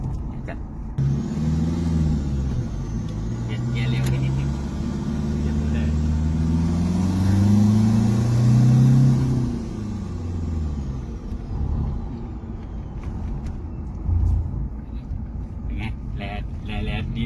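A Toyota Vigo Champ 2.5 fitted with an F55V variable turbo drives along, its engine rumbling and rising and falling in pitch as it accelerates, heard from inside the cab.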